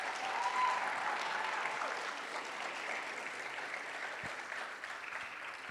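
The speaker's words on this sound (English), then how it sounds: "let's clap it up for these amazing athletes" Audience at a Western High School signing day applauds for the athletes, a dense steady clapping with a few whistles that holds for several seconds and fades slightly toward the end.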